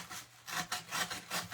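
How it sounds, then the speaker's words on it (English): Sanding block rubbing back and forth along the edges of a carved faux heart, a steady series of rasping strokes, each about a fifth of a second, close and distinct with no talking. "I like to use a sanding block"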